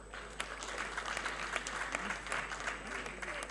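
Audience applause for a comedian at a live event, a continuous wash of steady clapping with some crowd noise and voices mixed in, moderately distant and fairly faint.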